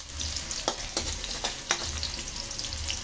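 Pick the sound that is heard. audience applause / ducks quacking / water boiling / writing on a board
water boiling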